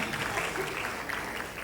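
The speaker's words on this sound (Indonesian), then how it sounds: "Tepuk tangan buat Bu Ratna." An indoor audience at an Islamic sharia insurance agents' gathering claps for a top agent, a dense, steady wash of applause filling the whole moment without pause.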